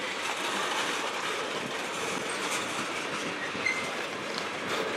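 A CN freight train rolls past on the Strathroy Subdivision, a dense, steady rumble of wheels and cars with faint clickety-clack and occasional squeal, loud and continuous throughout.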